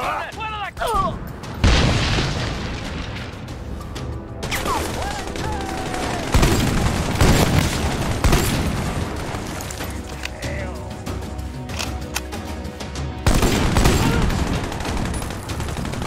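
Bursts of gunfire and explosive booms in the co-op shooter Army of Two: The Devil's Cartel, dense volleys with heavy impacts and mechanical clatter, with voices in the game.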